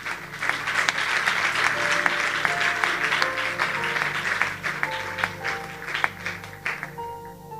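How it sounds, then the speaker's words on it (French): A church congregation bursts into sustained applause and clapping during a worship service, dense and lively, with musical tones sounding softly underneath and the clapping gradually thinning toward the end. "On acclame pour la parole du Seigneur"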